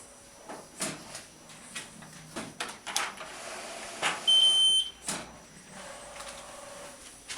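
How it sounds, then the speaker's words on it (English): An HP Designjet T1300 large-format printer beeps once with a short, high electronic tone amid clunks and mechanical clicks of roll paper being loaded and fed in. "The machine will recognise that, beeps, takes the paper in."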